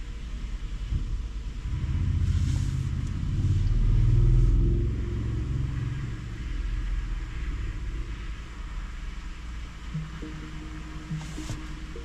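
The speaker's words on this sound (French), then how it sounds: "la circulation c'est un peu compliqué" Road traffic rumbles past in a French street, a car engine swelling to a low peak midway then settling into a steady drone, with a few faint tonal hums near the end and no talk.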